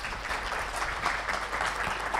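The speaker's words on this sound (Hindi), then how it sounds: "अपने लिए ताली भी बजा सकते हैं" Audience applause fills the room in a steady, dense wash of clapping from a seated crowd at a spiritual talk, close and even throughout with no voices over it.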